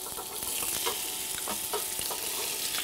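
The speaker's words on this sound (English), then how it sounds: "See, it makes that nice sizzling sound." Hot olive oil sizzling in a cast iron Dutch oven ready for browning chicken, a steady close hiss with a few soft clicks and pops, alone without talk.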